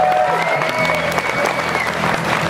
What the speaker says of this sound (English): Come on up here, let's make some noise for David